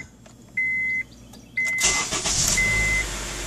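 A 2010 Honda CR-V: two steady electronic chimes sound inside the cabin, then the starter cranks and the engine catches with a rising roar that settles into a smooth idle as another chime plays.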